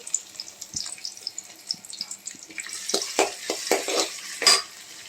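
Onion, carrot and potato pieces for a pasta dish are stirred in a pan. Light scraping at first gives way to a run of louder, rhythmic scraping strokes over a faint sizzle.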